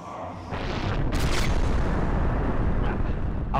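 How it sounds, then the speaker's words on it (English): A fireball spell explodes in Vagrant Story, a heavy booming burst that swells into a sustained roaring rumble and stays loud for several seconds. "Fireball"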